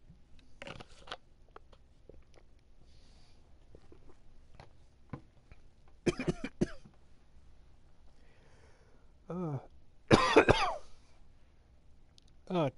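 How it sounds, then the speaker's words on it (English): A person chokes on water and breaks into a coughing fit indoors: scattered harsh throat-clearing coughs, then a loud cluster of hacking bursts with strained breaths, separated by quiet stretches. "Ugh, coughing fit."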